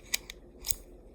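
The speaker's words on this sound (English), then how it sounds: "You gotta make sure it sounds like this. Like scraping noise." A Swiss army knife blade scrapes over a kitchen knife sharpener in two quick, sharp strokes, the second broader, fairly close and alone with no talking.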